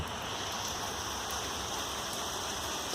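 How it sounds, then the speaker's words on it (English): Steady rain falls outside a window during a Bay Area rainstorm, a continuous soft hiss of drops on surfaces that stays even and fairly quiet throughout, with no voices. "It's just raining like regular."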